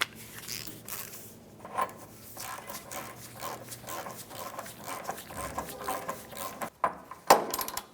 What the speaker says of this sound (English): After we have it bottomed out, you're going to want to torque this to 259 foot-pounds